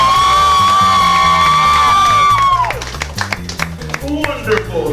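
Studio audience at a talk show breaks into clapping and cheering after a held sung note ends, a dense crowd of applause and whoops filling the remainder of the stretch.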